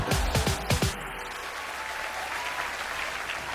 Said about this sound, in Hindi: सलमान भाई के लिए एक बार जोरदार तालियां हो जाए